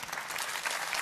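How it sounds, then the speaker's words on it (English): Snooker crowd at the European Masters applauding a century break, a steady dense wash of clapping from many hands, fairly soft and heard alone without any talk over it. "Getting a good round of applause from this crowd here in Lamel."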